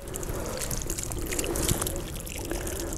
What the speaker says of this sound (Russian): Поливочный круг набираем полностью водой.